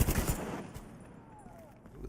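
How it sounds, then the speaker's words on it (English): A grenade blast in the video game The Division 2, a loud burst right at the start that quickly fades into a low, rumbling tail with scattered faint crackles. "Ooh, that's a big grenade."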